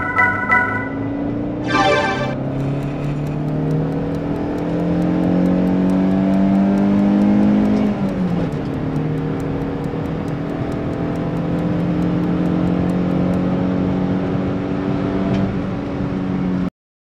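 A 2001 Renault Mégane Cabriolet 1.6 16V Privilège drives along, its engine droning and rising through the gears with a shift midway, heard from inside with steady road noise and a brief chime early on.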